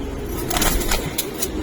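Giribaz silver-colored pigeons cooing close by, a soft, continuous murmur of low coos with a few brighter bursts, steady throughout with no talking.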